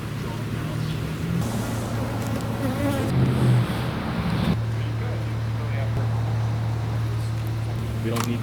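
Dense honey bee buzzing fills the air close by at an open hive, a steady hum with shifting pitch, while people talk over it.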